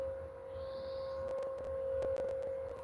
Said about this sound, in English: That's the alarm at a couple of minutes past midday.